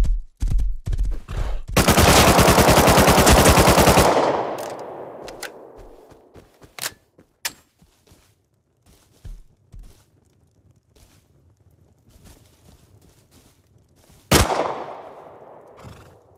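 Gunfire from a base raid in Rust on console: scattered shots, then a dense sustained burst of automatic fire, followed by sparse single cracks and footsteps, and another loud volley near the end.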